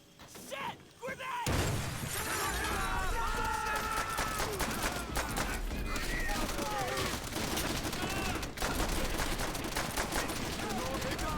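Dense, rapid gunfire rattles almost continuously in Call of Duty: World at War, with bursts of automatic fire, clattering mechanical weapon sounds and occasional shouted voices mixed in.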